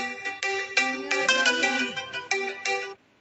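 A phone ringtone sounds during a live stream, a melodic electronic tune with repeated note phrases, loud and close, cutting off abruptly near the end.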